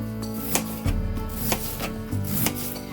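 A knife chops through an onion on a board in a quick, fairly regular series of firm, close knocks, about six cuts with brief pauses between.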